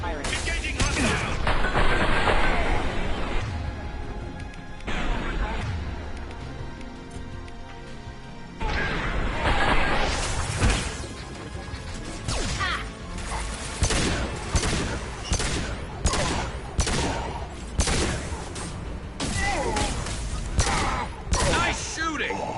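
Gunfire in Mass Effect 2 Legendary Edition: a heavy fusillade of rapid shots and sharp impacts, loud and close, with bursts repeating through a noisy battle under game sounds and occasional voices.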